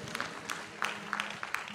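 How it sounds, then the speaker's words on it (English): Congregation clapping hands during a Sunday worship service at a Missionary Baptist church, a faint, sparse spatter of claps with some rhythmic hits, heard from a distance over a low room murmur. "Clap your hands."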